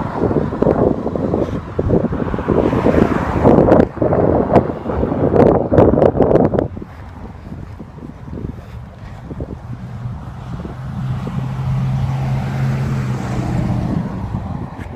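Outdoor wind buffets the microphone with loud, rough rumbling gusts for the first several seconds, then drops to a softer, steady rushing with a faint low hum underneath.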